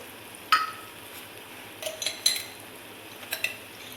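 Macaroni pasta with Schezwan sauce is stirred in a pan, giving a few sparse, sharp spoon clinks and scrapes against the metal over a quiet background.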